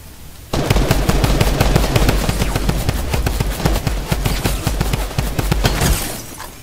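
Rapid automatic gunfire in the video game Fortnite, loud and close after a brief quiet start, a dense run of sharp bursts that tapers off near the end with no talking.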